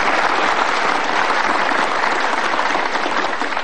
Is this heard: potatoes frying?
no